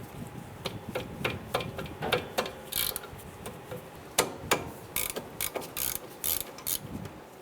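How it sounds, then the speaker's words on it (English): A socket and ratchet loosen the 10mm brake caliper bolts on a 1995-2001 Ford Explorer, a close series of rapid clicking ratchet bursts in irregular rhythm, with no talking. "We're going to use our socket and ratchet."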